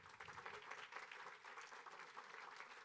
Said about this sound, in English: big round of applause for all of our presenters this morning,